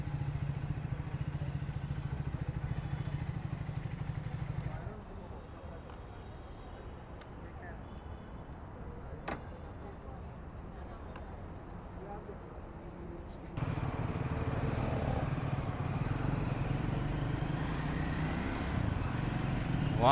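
A Triumph Scram 400 motorcycle engine hums steadily while riding, with wind and road noise that drops for a stretch and then rises louder again.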